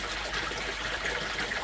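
Tap water trickles steadily into a garden pond, a soft continuous splashing and dribbling heard close by and fairly quiet, with no voices.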